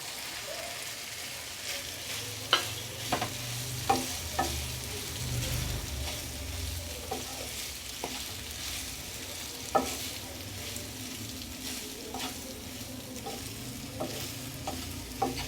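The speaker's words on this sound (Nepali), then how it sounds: "अब म यसमा पास्ता हाल्छु।" Macaroni pasta stirred and frying in a masala base in a pan, with a steady soft sizzle and repeated scraping spoon clicks spread irregularly through the clip, close and moderately quiet, no voices.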